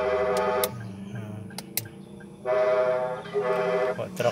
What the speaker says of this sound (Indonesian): Ini suara brot, suara apa namanya, klakson brot.